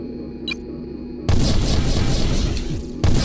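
Enemy mech destroyed in the Heavy Gear video game, a loud explosion booming in after a brief quiet stretch with a faint beep, then a roaring blast that surges again at the end.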